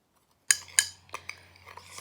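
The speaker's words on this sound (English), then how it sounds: "you're going to mix it all together" Cocoa powder and flour being stirred together in a bowl: a few sharp clinks of a utensil against the bowl, then softer scraping, close and quiet after a moment of silence.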